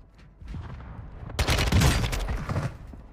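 Rapid gunfire bursts from Warzone 2.0 on Ashika Island, likely the ISO Hemlock rifle, erupting loud and dense after a quieter start, then fading slightly.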